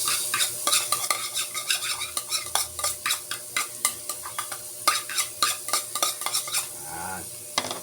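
Onion fries in a pan while cooking sisig with isaw, the sizzle paired with quick, rhythmic stirring strokes that scrape and clink against the metal, close and loud, without speech.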